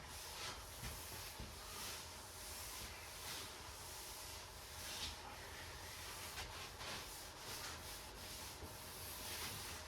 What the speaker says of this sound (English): Now I bring in my microfiber, give it a wipe down.